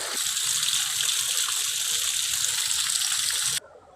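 Steady rushing water from a temple spring in Kotli, Azad Kashmir, where people collect drinking water, a close continuous gush that cuts off abruptly near the end.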